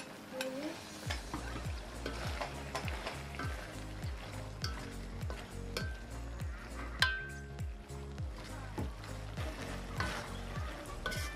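Squid stir-fried in a pan with onion and boiled corn for black pepper oyster sauce squid, a steady sizzle under repeated rhythmic scraping strokes of a spatula, close and fairly loud, with a sharp clink near the middle.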